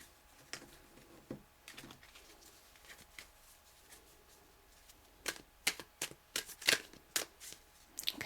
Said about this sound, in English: I'll do a couple more shuffles and then I'll choose